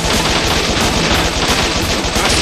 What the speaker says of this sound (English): Flame gun.